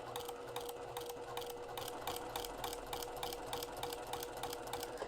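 A sewing machine stitches through a quilt in the hoop, giving a fast steady mechanical chatter of needle strokes, close and continuous with no talk.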